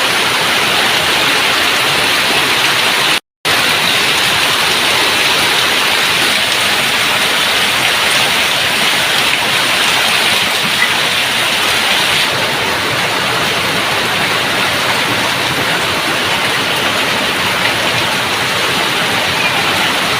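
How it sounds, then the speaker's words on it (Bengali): Heavy rain pours steadily and loudly in a village setting, a dense unbroken hiss that lasts throughout apart from one brief cut. "প্রচুর বৃষ্টি নামছে, প্রচুর।"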